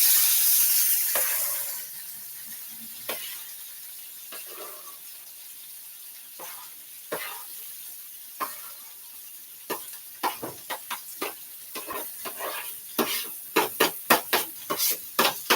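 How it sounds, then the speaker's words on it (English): Fresh cut callaloo sizzles in a hot skillet, a steady frying hiss that begins loud and settles lower, with a run of sharp pops and crackles growing denser toward the end. "All right, so I'm just going to add this to my skillet."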